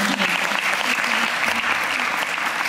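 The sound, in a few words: audience applause at Pond's event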